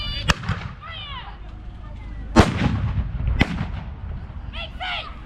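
Black-powder musket volleys from a Redcoat regiment at a battle reenactment, three sharp outdoor blasts, the middle one loudest with a long rolling echo, under a shouted command and crowd voices.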